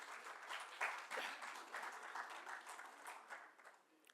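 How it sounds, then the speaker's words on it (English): An audience at a tribute event gives a round of applause, with a dense, steady patter of many hands clapping at a fairly distant, subdued level that thins slightly toward the end. "A round of applause, please."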